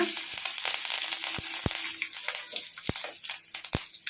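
Curry leaves sizzle and crackle steadily in hot oil in a pan, tempering for methi tomato chutney, with a few sharp pops and spits scattered throughout.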